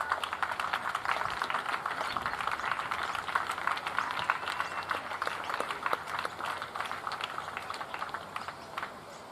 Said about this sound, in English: I'm trying not to talk over the applause because I just want you to hear just how respectful this crowd is